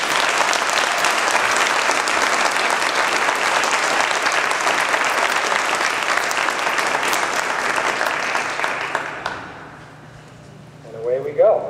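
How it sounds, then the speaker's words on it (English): A hall-of-fame induction ceremony audience gives a long, dense round of applause that holds steady for about nine seconds before fading, followed by a brief voice. "If we could give them a round of applause."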